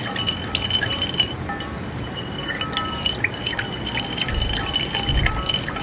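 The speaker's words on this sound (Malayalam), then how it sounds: "എന്നിട്ട് സ്പൂൺ വെച്ചിട്ട് ഒന്ന് മിക്സ് ചെയ്യാം." A spoon stirring yeast and sugar into warm milk in a glass, light clinks and liquid swishes over a steady background hiss, close and fairly quiet.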